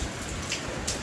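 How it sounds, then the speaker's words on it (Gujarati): Heavy storm rain pours in a dense, steady hiss over a short stretch near Rajkot, loud and even with no breaks and no talking. "બહુ તોફાન છે આજે તો"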